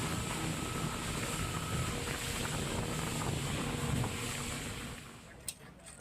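A police chase by motorboat across open water, a steady rushing roar of engine and spray with wind buffeting, fading slightly near the end.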